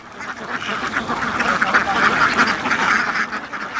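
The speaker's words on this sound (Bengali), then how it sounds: "নদীর পাশেই গড়ে তোলা উন্মুক্ত পদ্ধতির খামারের এসব হাঁসের দল বেঁধে ঘুরে বেড়ানোর দৃশ্য যে কারো মন কাড়বে" A flock of ducks quacks on an open riverside duck farm in Naogaon, Bangladesh: a dense, continuous, close chorus of overlapping calls.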